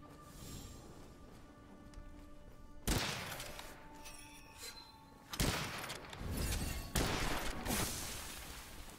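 Three sharp, echoing gunshots from the video game Witchfire, spaced a few seconds apart over a low, steady background hum, each a loud close blast with a short ringing tail.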